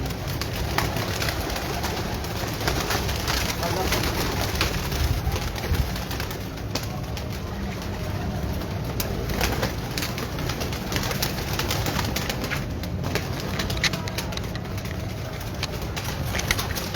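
Breeder pigeons coo steadily on a rooftop in Golmandi, Lahore, a continuous close chorus of soft throaty calls over a busy urban background with faint hoof-like clopping.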